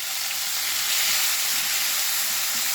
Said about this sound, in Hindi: अब इसमें मैं डाल दूंगी 2 चॉप टमाटर।